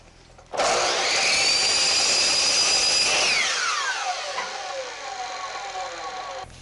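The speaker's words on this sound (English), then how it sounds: "I'm cutting with the blade right at the long point of that triangle" Power saw blade cutting small wood pieces for tsumiki blocks at the long point of a triangle, a loud whining cut starting abruptly, holding steady, then the motor pitch falling as it spins down.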